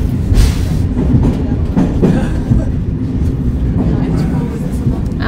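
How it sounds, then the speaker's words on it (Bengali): A freight train rumbling past in Paris, heavy low rolling noise with rhythmic clatter of wagons, heard close and steady while people talk over it. "প্যারিসের মালগাড়ি"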